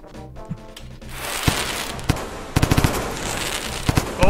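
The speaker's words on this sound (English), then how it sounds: "That was all of my firecrackers just now." A burst of firecrackers in Rain World, a rapid string of sharp crackling pops over a steady hiss, loud and close, with a few louder bangs toward the end and no talk.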